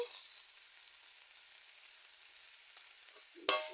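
Turmeric and chilli powder fry in a pan for a potato curry, a faint steady sizzle heard close up, ending in a sudden sharp clatter near the close.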